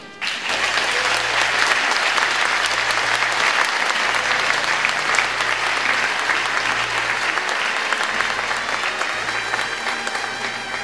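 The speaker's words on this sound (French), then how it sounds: "On les applaudit." A crowd claps steadily and loudly for several seconds, a dense, sustained applause that fades slightly toward the end, with a faint low hum underneath.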